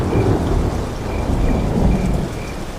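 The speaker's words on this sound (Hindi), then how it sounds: "अभी भी उतनी ही तेजी से बारिश हो रही थी।" Heavy rain pours down in a loud, continuous roar while thunder rumbles deep and long beneath it, with no voices.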